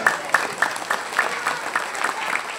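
An audience claps together in a steady, evenly spaced rhythm during an Indonesian religious lecture, a crowd beating out a unison pattern at moderate volume.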